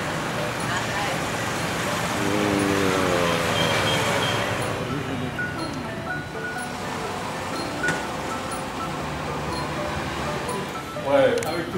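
Road traffic on a route through rubber plantations in Cambodia, with a steady wash of passing vehicles and engine drone, a horn-like tone near the end, and voices talking over it throughout.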